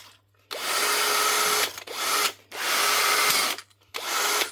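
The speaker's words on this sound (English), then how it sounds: "That's one wee cheapo Bosch drill with a new motor." Cheap Bosch drill fitted with a new motor, run in four separate bursts of loud, high whirring, each starting and stopping abruptly with short quiet gaps between, close up and without talking.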